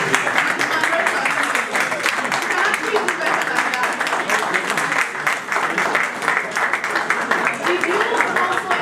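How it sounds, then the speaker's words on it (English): A round of applause from a business conference audience for the panelists, thick continuous clapping throughout with scattered crowd murmur and voices mixed in. "If you did, please give the panelists a round of applause,"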